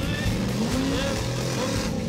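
A 4x4 off-road vehicle engine revs steadily on an extreme obstacle course at a jamboree in Lavaltrie, a continuous loud motor drone with rising pitch sweeps and no pauses.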